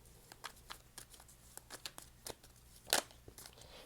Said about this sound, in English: Let me get some more cards.